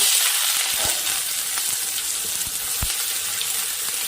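Chopped onion frying in oil in a wok, giving a steady close sizzle and crackle with a few sharp spatters and pops scattered through, no voices.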